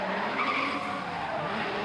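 A pro drift car at a D1NZ championship qualifying round in Tauranga slides through a corner, its tires squealing in a continuous loud skid over the engine's roar, steady throughout.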